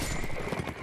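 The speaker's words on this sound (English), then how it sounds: "Gimli stops his horse." Horse hooves clip-clop rapidly in a video game battle, a quick, close, galloping patter lasting under a second, with a faint neigh mixed in.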